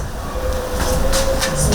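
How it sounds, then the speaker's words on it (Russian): A train rolls past with a steady, heavy rumble and a thin tonal whine running through it, loud and continuous throughout. "Поезд."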